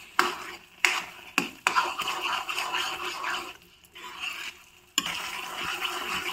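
Grated carrot halwa is stirred in melted ghee in a pan, with repeated close scraping and sizzling strokes broken by short pauses.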